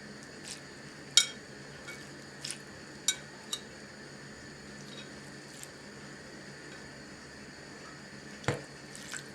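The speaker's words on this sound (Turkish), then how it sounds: "Evet, 4-5 kaşık sirke koyuyorum. Kendimin doğal sirke, elma sirkesi." Homemade apple cider vinegar is spooned over shredded purple cabbage in a quiet kitchen, giving a handful of soft, scattered clinks and small wet drips against a faint steady background hum.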